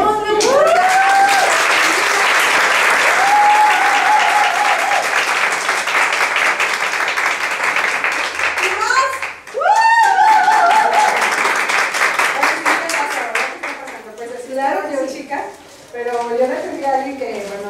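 Applause from an audience at a directors' meeting for Elizabeth, sustained dense clapping with whistles and cheers rising over it, thinning out toward the end.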